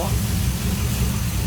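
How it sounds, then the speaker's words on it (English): A 1955 Ford truck engine idling low after sitting for 28 years, a steady close rumble with a slightly uneven, lumpy pulse throughout. "Got a little low idle."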